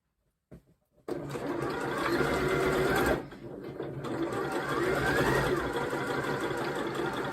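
A sewing machine stitches a make-up brush roll in a loud, close, steady whir. It starts after a couple of brief clicks, dips briefly midway, then runs on continuously with no talking.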